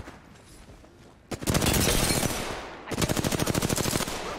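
Rapid automatic gunfire in an Apex Legends battle: a sustained, loud burst of shots, a brief pause, then a second fast, evenly spaced volley of close, cracking rounds.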